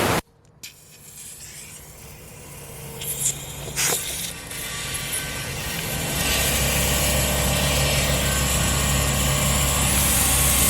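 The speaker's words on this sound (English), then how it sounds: "the compressor pretty much kicks right on once you start filling up the tire" An air compressor filling a tire kicks on partway through, swelling into a steady loud hum and hiss after a few quiet clicks and handling noises.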